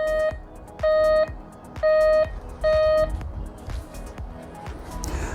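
A waterproof metal detector gives four sharp, clear beeps at a steady pace as it finds metal, followed by soft handling noises and shuffling.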